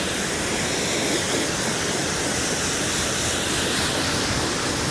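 Water sprays steadily onto a ceramic-coated car, a dense continuous hiss with no pause or change in level.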